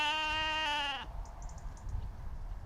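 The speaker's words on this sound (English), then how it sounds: "you heard the sheep?" A single sheep gives one clear, tonal bleat for about a second beside a farm shop, then it fades into faint outdoor background noise.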